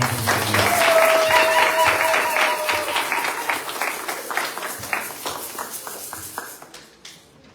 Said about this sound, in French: Est-ce qu'on peut acclamer très bien?